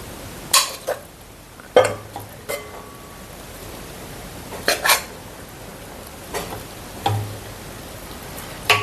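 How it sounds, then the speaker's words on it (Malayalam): Cooked rice is stirred into tamarind gravy in a pan, heard as a series of separate scrapes and clinks of a spoon against the metal, spaced irregularly over a quiet background. "നമുക്ക് ചോറ് അതിനകത്തോട്ട് കുറച്ച് കുടഞ്ഞിട്ടൊന്ന് ഇളക്കാം."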